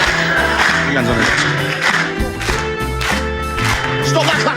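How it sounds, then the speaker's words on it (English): Rhythmic hand clapping in a studio panel show setting, beating along with music and crowd noise, moderately loud with a voice and laughter mixed in underneath. "Stop that clapping, Soph."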